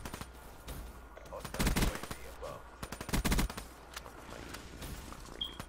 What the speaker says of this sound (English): that guy's using the light machine gun, which light machine guns are overpowered